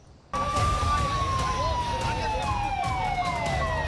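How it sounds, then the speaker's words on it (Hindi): A loud police van siren starts abruptly and wails in a slowly falling tone, then repeats in quicker yelps over heavy road rumble. "सायरन बजाती, फर्राटे से दौड़ती ये जो नीली वैन देख रहे हैं"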